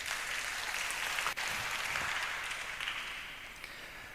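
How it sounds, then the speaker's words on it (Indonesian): A church congregation claps during a sermon, a dense, even patter of applause heard from a distance that gradually fades toward the end. "Tepuk tangan dulu saudara."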